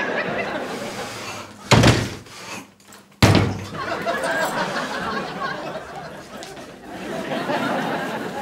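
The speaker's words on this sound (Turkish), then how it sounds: "Tam kapıyı çalıyordum, açtınız." A door is opened during knocking: two sharp, loud knocks or thuds, then a door clunk, with lively voices and chatter throughout.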